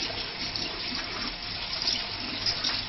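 Cold water rinsing wheatgrass seeds inside a cut plastic Coke bottle, a steady close splashing wash lasting a few seconds with no talk.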